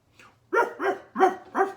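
A dog called Lord Barkington barks four times in a steady rhythm, with a fainter yip before the first. The barks are loud, close and clear, with no talking over them.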